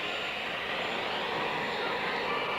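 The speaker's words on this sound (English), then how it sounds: "The helicopters, in the meantime, do continue to whir on the parking lot" A steady, broad mechanical whir of helicopters on a parking lot drones on without pause, rotor noise carrying from a moderate distance.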